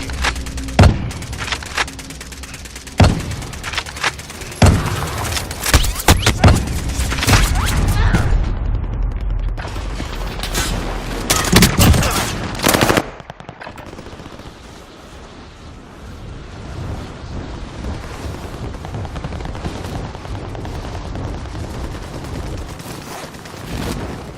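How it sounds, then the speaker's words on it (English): Heavy gunfire and explosions in the battle royale shooter Warzone, dense bursts and blasts over the first thirteen seconds, then a quieter stretch of distant rumble and scattered shots. "Under hostile fire."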